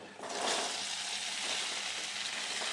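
Indian gooseberries dropped into hot oil with asafoetida burst into a loud, steady sizzle that starts abruptly and holds evenly throughout, close and unbroken, with no talk over it.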